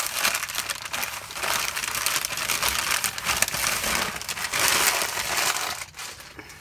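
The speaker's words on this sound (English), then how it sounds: "Please don't cut up priority mail packaging just to send me stuff." Priority mail packaging crinkled and crumpled in the hands, a loud close continuous crackling rustle that runs throughout with no talking.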